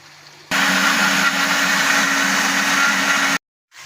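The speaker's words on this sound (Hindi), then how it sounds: "हम अपना ये प्याज, टमाटर, हरी मिर्चें जो हैं वो ब्लेंडर में डाल के ब्लेंड कर लेंगे" An electric blender grinds onions, tomatoes and green chillies for an Urdu arvi chicken curry, a loud steady motor whine running about three seconds before cutting off abruptly, with no talk.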